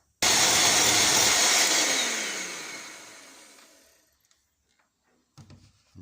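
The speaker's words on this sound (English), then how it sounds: "I'm going to take a beater and beat these guys up" Electric beater whipping eggs in a kitchen, a loud steady whirring drone that starts abruptly and gradually fades out over several seconds, followed by a few faint clicks and knocks.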